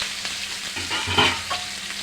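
Onion, garlic and ginger paste fries in hot oil with a soft, steady sizzle and a few stirring scrapes and spatters, no voices.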